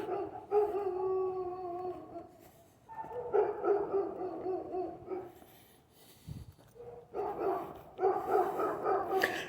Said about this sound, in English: Based on the sound of that dog